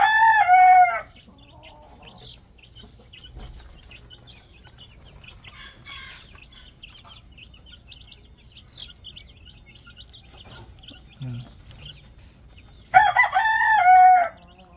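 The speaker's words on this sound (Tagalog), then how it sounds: "Tapos ito, tandang natin." A rooster crows loudly nearby at a small chicken farm, once at the start and again near the end, with a quiet stretch of faint clucks and chirps between.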